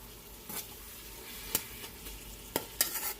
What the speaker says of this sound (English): So let those 2 items saute. I got them on high heat.